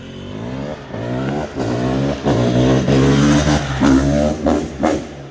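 A tuned, counterbalanced 2023 GasGas 500 BRC dirt bike engine barks with quick, punchy blips of the throttle just off idle, a rough, rhythmic rumble that surges several times, close and loud.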